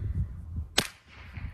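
A single sharp crack from a 9mm pistol fitted with a suppressor, one brief shot rising over a low background rumble, moderately loud and close.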